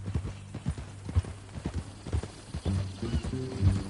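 Horse hooves clip-clop at a steady walking rhythm in Red Dead Redemption 2, close and distinct, with a faint whinny and low background hum.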